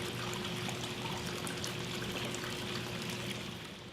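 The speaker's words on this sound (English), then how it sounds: "I'm going to go ahead and put her back into the water" Water splashes and trickles steadily as a small reptile or amphibian is placed back into its water, a continuous close pouring sound with no talk.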